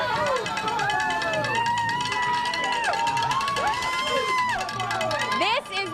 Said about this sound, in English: This is the crowd gathered at Academy Sports.